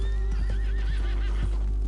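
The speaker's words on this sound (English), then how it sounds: "It's a thoroughbred." A thoroughbred horse in Red Dead Redemption 2 lets out a drawn-out, wavering whinny over steady game ambience, with a few soft hoof clops underneath.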